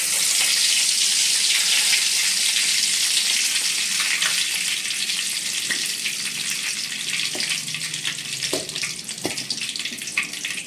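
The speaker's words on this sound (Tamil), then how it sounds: "கொஞ்சோண்டு கடுகு போட்டுக்கலாம், தாளிக்கிறதுக்கு நல்லாயிருக்கும்" Mustard seeds and curry leaves crackle and sizzle in hot oil, a loud steady hiss with scattered pops, gradually settling slightly toward the end.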